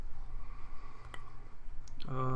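A few faint, sharp computer mouse clicks sound while server roles are installed on Windows Server 2012, spaced apart in a quiet room, with a voice starting just at the end.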